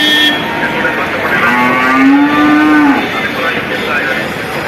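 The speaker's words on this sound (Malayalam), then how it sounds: "അത്യാവശ്യം പോത്തും കന്നുകളും എരുമക്കന്നുകളും കാളക്കന്നുകളൊക്കെ ഉണ്ട്" Buffaloes, bulls and calves at the Perumpilavu cattle market give a loud, drawn-out moo close by, rising and holding before fading into the busy market murmur.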